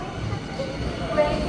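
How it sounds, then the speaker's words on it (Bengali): An AC local train pulls out of Barrackpore station with a low, steady rail rumble and a faint high squeal, heard briefly at moderate distance. "এখন চলে যাচ্ছে ব্যারাকপুর থেকে ছেড়ে আমাদের এসি ট্রেন"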